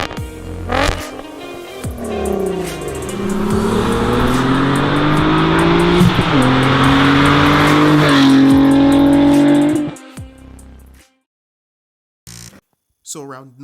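A Volkswagen VR6 car engine revs loudly and steadily, its pitch climbing and dropping through several gear changes, then cuts off into near silence with a brief voice at the very end.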